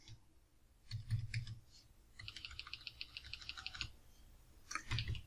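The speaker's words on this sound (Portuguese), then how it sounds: "Vou dar um clique aqui." A computer mouse clicks quietly in bursts, several quick light taps clustered together, then a longer run of rapid clicks, with faint room noise between.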